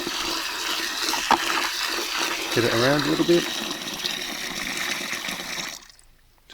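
Water poured into perforated fodder-growing buckets, a steady broadband splashing and trickle running through most of the clip, then cutting off near the end, with someone speaking over it midway.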